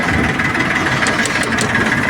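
A tractor engine idles steadily and loud up close, with a continuous low rumble and vibration running through the whole stretch and no talk over it.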